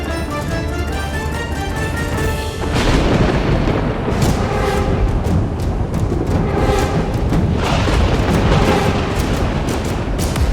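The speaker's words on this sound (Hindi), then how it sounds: "ये भीषण आंधी, ये मूसलाधार वर्षा" A violent storm of torrential rain and thunder builds from a low rumble into loud, dense crashing, with heavy booming bursts rolling through a continuous roar of wind and rain.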